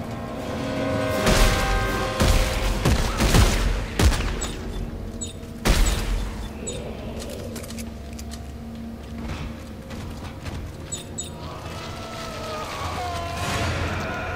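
Gunshots and booming blasts fire in the sci-fi horror game Dead Space 3, a few loud bursts early on before the action settles into a rumbling, echoing game soundscape with alarm-like tones.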